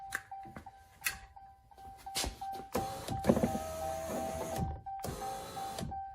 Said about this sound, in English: we've got the window going up and down beautifully